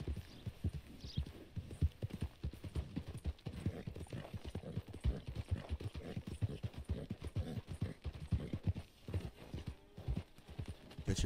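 Horse hooves from riding in the video game Red Dead Redemption 2 clip-clop in a steady, quick rhythm throughout, close and fairly loud with no talking over them.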